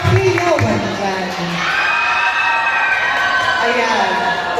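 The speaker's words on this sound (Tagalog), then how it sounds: "Wala po bang hiyawan dyan?" Pageant audience shouting and cheering together in a loud, continuous wash of crowd noise with excited whoops, staying steady throughout with no clear pauses.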